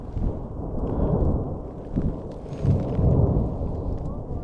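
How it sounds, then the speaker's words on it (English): Distant thunder rolling over a Colorado mountain ridge during a trail hike, a low sustained rumble that swells and fades over several seconds, heard alone without talk. "There's a thunder."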